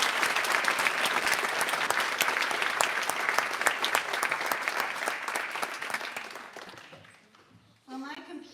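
Loud, sustained applause and cheering from the audience at an awards event fill the air, holding steady for several seconds before tapering off, and a voice briefly comes in at the end.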